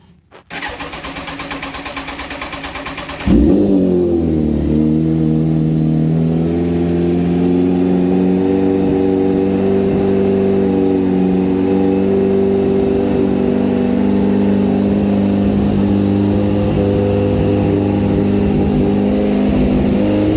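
A 2004 Kawasaki ZX-10R engine cranks and fires up from cold after a few seconds of hiss, then settles into a steady, loud high idle that holds to the end.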